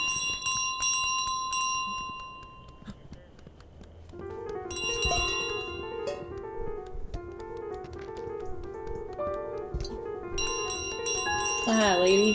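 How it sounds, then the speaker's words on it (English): A bell rings in Untitled Goose Game in bright repeated bursts over a light game soundtrack, with a voice talking over parts of it. "Everybody wants a piece of the bell."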